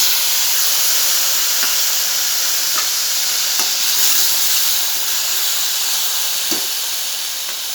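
Tomatoes frying and cooking down in a pan, a steady close sizzle and hiss with a few faint stirring taps, and no talking.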